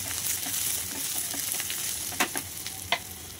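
Onion and green chili sauté in a hot pan with turmeric and asafoetida added, giving a steady close sizzle throughout with a few sharp stirring clicks near the end.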